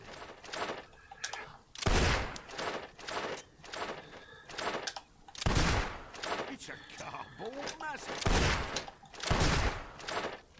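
Gunfire in the Fable 2 video game: several loud, sharp shots spaced irregularly a second or two apart, with game sounds and clatter between them.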